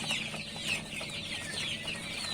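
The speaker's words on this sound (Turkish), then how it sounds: "Ama aşağı katta tavuk civcivlerimiz var" Chicken chicks peeping inside a cage, a continuous overlapping chorus of high thin cheeps at close range with no talking.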